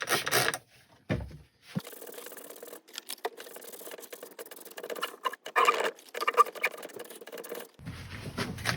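Sandpaper rubs against a spinning willow bowl with a resin inlay on a wood lathe, giving a quiet, continuous scratchy rasp that swells and fades in irregular strokes, with occasional soft knocks and no talking.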